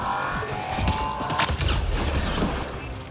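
Heavy gunfire in Mass Effect Andromeda multiplayer as four players shoot at one enemy together, a dense, continuous barrage of shots and impacts with no gaps.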